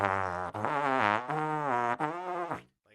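A trombone buzzes in a rough, rapid stream of double-tongued notes, several short uneven bursts in a row, close and fairly loud.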